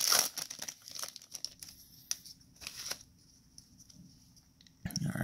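Magic: The Gathering card packs being opened, foil wrappers crinkling and tearing in quick bursts with soft card shuffling between, close and fairly quiet, with no talking.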